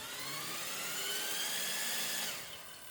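A CYC X1 Pro Gen4 electric bike motor with a newly replaced sprocket, running under throttle on assist level 2, gives a steady high-pitched whine that climbs slightly in pitch and fades near the end, close and alone.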